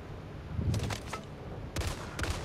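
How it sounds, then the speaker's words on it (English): Assault rifle gunfire in the zombie shooter Back 4 Blood, heard as two short bursts of rapid shots about a second apart, moderately loud over a steady game background. "Assault rifle."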